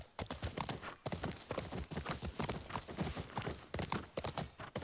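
Horse hooves clip-clop in a steady, rapid rhythm throughout in The Last of Us Part 1, loud and close, with no talking over them.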